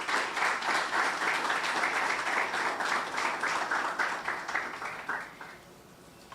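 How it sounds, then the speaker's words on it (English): Audience applause at a student internship programme closing ceremony, a dense, steady crowd of clapping that holds for about five seconds before thinning and fading out. "Can I have a round of applause"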